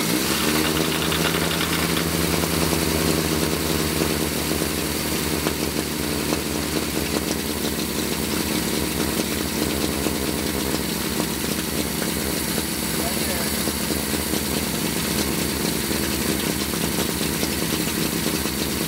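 Triumph Spitfire car engine running steadily after a choke start, with a constant loud rough drone and rattle throughout, close by and largely unbroken.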